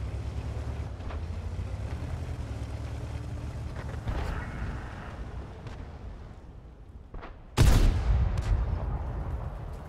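In a tank video game, a T-34/100 cannon fires a sudden heavy boom through a steady low engine rumble, followed by a rolling, echoing tail, with a faint earlier thud a few seconds before.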